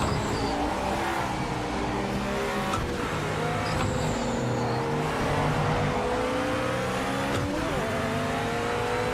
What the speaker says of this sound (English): Oh, that RX-7 sounds decent.